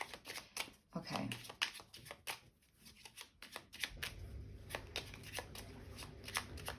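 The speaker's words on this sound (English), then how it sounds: "I'm shuffling until I know" Lenormand cards being shuffled by hand in repeated soft riffling bursts, close and fairly quiet, with a low hum joining partway through.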